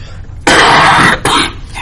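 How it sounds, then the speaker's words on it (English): A lecturer with a lingering cough in a university math class coughs twice in quick succession, the first burst long and loud, the second shorter, both close to the microphone. "I'm making progress on this cough, but it's just not gone yet."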